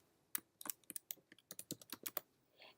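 Keys click on a computer keyboard in quick, irregular bursts of separate taps, close but quiet, with no voices.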